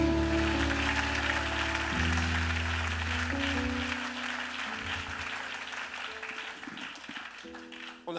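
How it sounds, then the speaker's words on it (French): Church congregation applauding and cheering for Jesus, a sustained wash of clapping mixed with voices and music-like tones throughout, fading slightly toward the end. "Est-ce que tu peux acclamer Jésus?"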